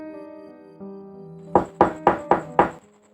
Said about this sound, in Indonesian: dari pintu depan terdengar suara ketukan dan suara memanggilnya